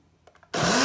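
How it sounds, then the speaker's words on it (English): A kitchen blender kicks on abruptly after a few faint clicks and whirs loudly at full speed, chopping herbs, garlic, thyme and green onion. "I'm gonna throw all this into my blender, blend it up nicely"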